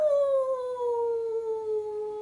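A person's voice imitates a wolf howl: one long, sustained 'aouh' that slowly slides downward in pitch, heard alone and clearly.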